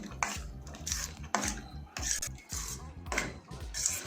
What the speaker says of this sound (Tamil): இப்போ நம்ம வறுத்து வச்ச முந்திரி திராட்சை எல்லாம் கொட்டிடுவோம்.